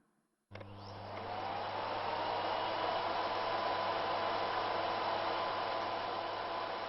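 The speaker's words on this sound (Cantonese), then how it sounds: "Miller S5系列吸塵機，超靜音設計" A Miele S5 series vacuum cleaner switches on abruptly after a moment of quiet, then runs with a steady, even whoosh of airflow and motor hum.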